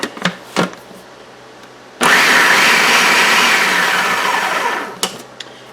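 An electric hand mixer blends mashed potatoes with onion powder and pepper for fish cakes. After a few clattering knocks it starts up with a loud, steady whir that lasts about three seconds, then winds down and stops.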